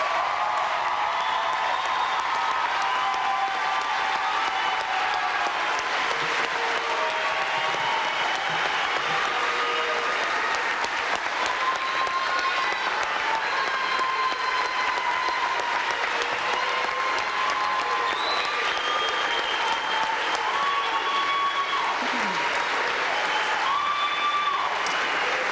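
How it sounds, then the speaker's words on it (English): A crowd at the Cleveland Division of Police graduation ceremony applauds its new officers with sustained, even clapping that fills the whole stretch, with faint tonal sounds threaded through the room. "Please give all of our brand new officers a round of applause."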